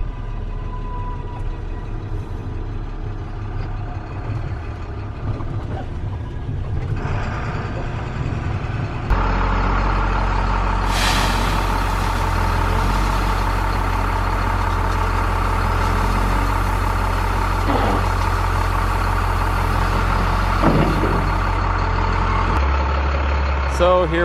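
Snow plow truck engine running steadily while driving to a township rock pile of road mix, a loud continuous low rumble that grows heavier midway and persists throughout with no talk.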